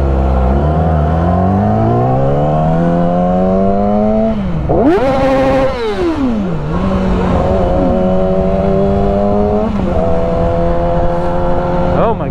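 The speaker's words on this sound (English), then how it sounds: "we got a rev bomb when we go by" A car engine revs hard and rises in pitch, drops sharply, then surges again in a loud rev bomb at close range. The revving continues alongside a steady driving drone.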